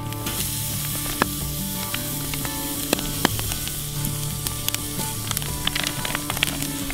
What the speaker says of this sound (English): getting ready to throw some fresh steaks on the grill